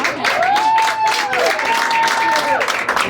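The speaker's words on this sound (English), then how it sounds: "So I want us to give you a round of applause for that" A crowd applauds with dense, sustained clapping while a voice carries over it, loud and close throughout.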